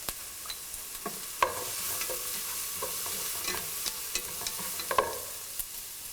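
Onion sautéed with turmeric powder in a pan for a shrimp theeyal: a continuous soft sizzle runs throughout, punctuated by scattered spoon clinks and scrapes from stirring, with no voices.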